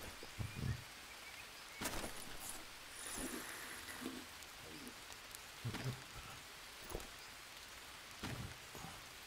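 Rainfall in the jungle survival video game Green Hell, a soft steady hiss of rain with scattered louder drops and a few faint thuds, fairly quiet and without speech.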